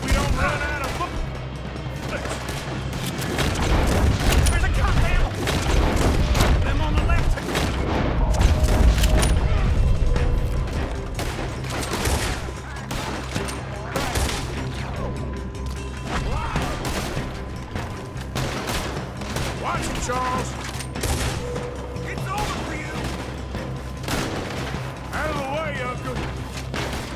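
Red Dead Redemption 2 gunfight, a dense, loud stretch of rapid gunshots, booms and crashes that later thins to scattered shots, with voices talking in between.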